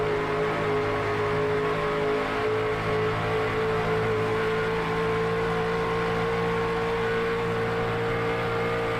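Onboard engine of a stock-style race car at Atlanta in a sim racing game: a sustained loud, buzzing drone holds steady throughout with no talk over it.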